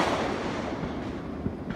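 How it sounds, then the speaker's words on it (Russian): Fireworks bursting in a forested village during Fourth of July celebrations in upstate New York, heard as a continuous distant rumble and crackle through the trees with one sharper pop near the end. "в нашей деревне сегодня салют. Салют у нас в лесу"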